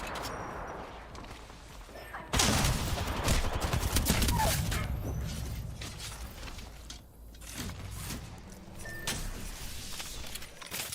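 Gunfire in the video game Apex Legends, a sudden dense burst of shooting that keeps rattling for several seconds, then lighter mechanical clicks and clatter, loud and continuous.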